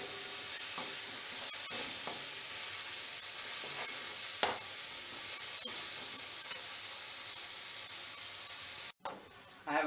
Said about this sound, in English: I'm going to fry this thing till the oil oozes out.